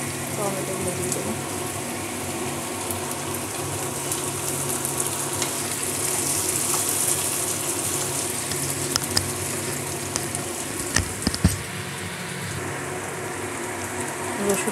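Onions frying in a pan as tomatoes go in for an easy chicken curry, giving a steady close sizzle with stirring scrapes and a few sharp clatters toward the end.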